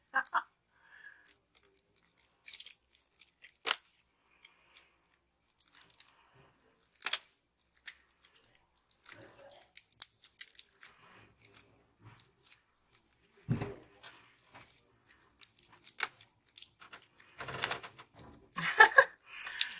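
Putty being pulled apart gives scattered sharp snapping clicks, some quiet and some louder, at irregular gaps, with the snaps coming thicker toward the end.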